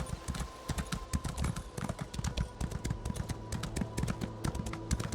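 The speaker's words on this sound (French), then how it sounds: "Mon cheval il en peut plus, il en a marre." Horse hooves pound in a fast, steady galloping rhythm during a battle in Cyrodiil in the video game Elder Scrolls Online, clear close hoofbeats over a low continuous background.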